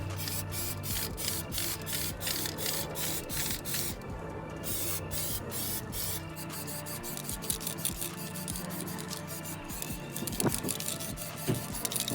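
Matte black Plasti-Dip is sprayed from an aerosol can onto an alloy wheel, a close, continuous hiss broken into repeated bursts with brief pauses and light rubbing noises between passes.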